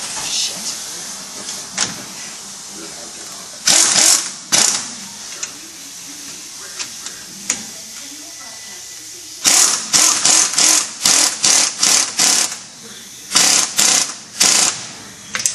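A power tool drives a spring compressor on a Dodge Challenger SRT front coil spring, with loud, repeated short bursts of buzzing, ratcheting whir separated by pauses and quieter handling sounds close by.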